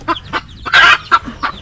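Chickens cluck close up in a quick series of about five short, loud calls, one longer squawk in the middle, with no talking.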